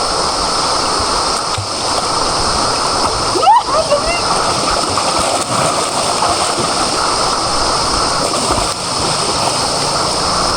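Sea waves wash and splash in a continuous loud roar close by, with a brief sharper splash partway through and voices and shouting mixed under the surf.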